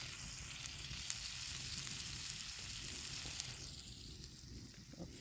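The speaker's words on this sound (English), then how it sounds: "Listen to that sizzle." Bacon sizzles in a pan over a campfire at a remote forest campsite, with a steady, close, crackling fry that continues throughout with no talking.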